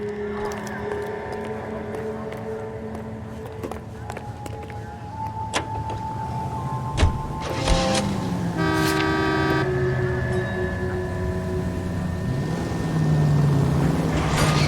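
A 1940s-style car drives through city streets in the crime game L.A. Noire, its engine humming steadily with a horn tooting and screeching tones, swerving sounds rising near the end.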